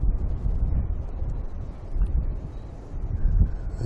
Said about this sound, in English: the wind's pretty severe